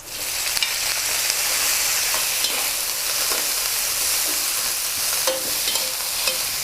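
Vegetables are stir-fried in a hot pan with shiitake mushrooms for a vegetarian pad see ew, giving a loud, continuous sizzle with occasional scraping and tossing sounds close by.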